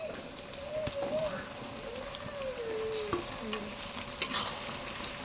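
A spoon stirs curry with eggs cooking in a pan, a soft continuous scraping over a steady sizzle, with a few sharper clinks near the end.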